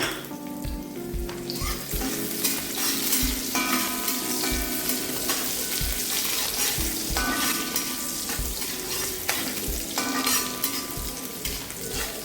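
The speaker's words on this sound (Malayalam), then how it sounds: "ഇതിലേക്ക് 2 അല്ലി വെളുത്തുള്ളിയും 2 പച്ചമുളകും അരിഞ്ഞത് വഴറ്റണം." Chopped garlic and green chilies sautéing in vegetable oil for chicken fried rice, a steady close sizzle broken by frequent spatula scrapes and metallic pan clinks throughout, with no voices.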